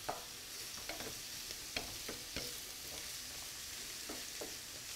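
Zucchini and onions fry in a pan, giving a steady soft sizzle under a few light scrapes and taps of stirring, close but quiet with no voices.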